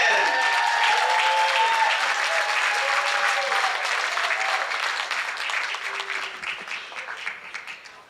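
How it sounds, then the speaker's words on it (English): A comedy-night audience applauds steadily for a newly welcomed comedian, a dense, loud wash of clapping that holds for several seconds before slowly thinning out, with a few scattered voices and cheers mixed in. "Thank you for that applause."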